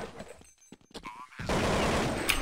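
Gunfire in Counter-Strike on de_mirage during an ESWC 2011 SK Gaming versus Mousesports match: a dense, steady burst of shots fills the last second after brief, sparser sounds, with faint talk.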